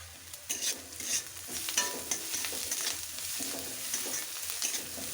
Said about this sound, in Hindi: प्याज का कलर हल्का ब्राउन हो चुका है और थोड़ी देर फ्राई करेंगे इसे